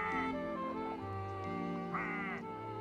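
Mother duck quacking by a pond, a few nasal cartoon-like quacks over a soft melodic background, faint overall with no speech.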